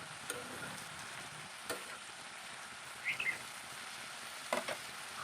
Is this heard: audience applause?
no